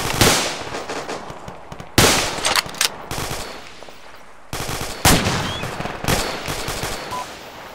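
Rifle and machine-gun fire rings out in a military video game operation in Arma, with sharp, loud bursts and single shots repeating in an irregular rhythm across several seconds, close and without talk.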